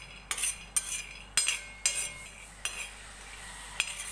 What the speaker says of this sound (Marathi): हे शेंगदाणे मी मस्त भाजून घेतेय